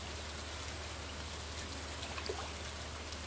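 Steady rain falling in the farming video game Stardew Valley, a dense, even hiss of rainfall with a low background hum, continuous throughout without talk.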